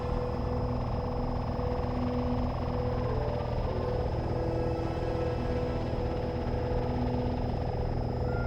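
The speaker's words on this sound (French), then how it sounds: "Un drone de sécurité probablement armé" A hovering security drone in the video game Dreamfall gives off a steady mechanical hum with a faint high whine, holding even and close for the whole stretch with no one talking.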